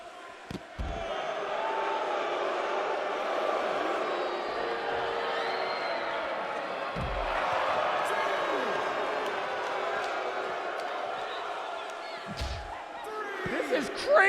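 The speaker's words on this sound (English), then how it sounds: "And listen to this crowd." Loud wrestling arena crowd roaring and cheering throughout a match, a dense sustained wall of voices with a few sharp thuds, a commentator talking over it.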